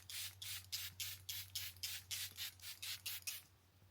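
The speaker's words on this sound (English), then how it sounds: "I just used my Airbrush Flawless setting spray from Anastasia Beverly Hills." Anastasia Beverly Hills Airbrush Flawless setting spray misted in about a dozen quick, even bursts, close and fairly soft, over a low steady hum.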